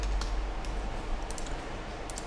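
Typing on a computer keyboard, a short run of soft, quick key clicks at close range over a low background hum, with no voices.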